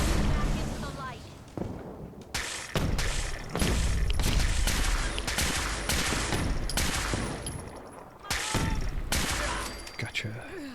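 A gamma gun fires in the video game Fallout 4, loud rapid bursts of weapon fire and blasts in clustered volleys with brief lulls between them, alongside other combat noise.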